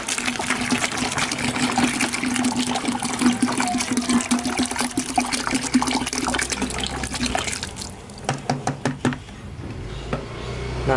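Water poured into a mango leaf liquid fertilizer mixture makes a steady close splashing gush that thins toward the end into a few separate trickles and splashes.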